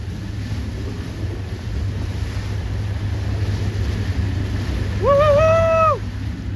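Wind blows steadily over the water at a C420 and 29er sailing regatta, a constant low rush of breeze and waves, briefly joined near the end by a clear rising and falling whistle-like tone.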